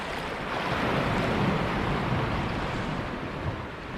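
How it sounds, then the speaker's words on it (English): Sea swell rolls into Dunbar Harbour, a continuous loud wash of surf and moving water with wind noise and no talking. "Bit of swell coming in here."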